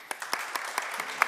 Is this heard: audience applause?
yes